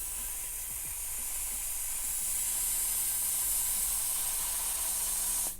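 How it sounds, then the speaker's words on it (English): Got to Be Glued adhesive spray hisses steadily into a plastic coloring bowl in one long, continuous close-up burst that stops abruptly at the end. "We're gonna take one of these coloring bowls and just spray it in."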